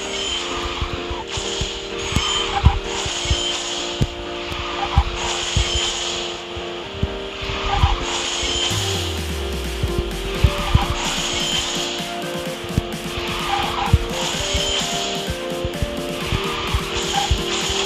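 A racing car in the mobile game QQ Speed Mobile, an Origin Star EXA with seven boost exhausts, drives and drifts, with continuous engine drone, game music and scraping, skidding effects layered throughout, steady and loud.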